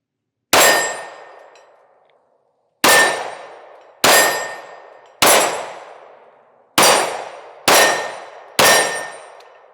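Seven loud, sharp clangs ring out at uneven intervals as pistol rounds from a compensated Smith & Wesson Shield Plus strike steel targets, each impact leaving a ringing metallic decay before the next hit.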